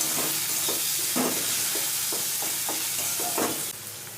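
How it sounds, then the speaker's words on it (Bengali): A spoon stirs chili powder and a little sugar into frying onions, giving repeated scraping strokes over a constant close sizzle, with no talking. "এবার ভালো করে পেঁয়াজের সাথে মিশিয়ে নিচ্ছি।"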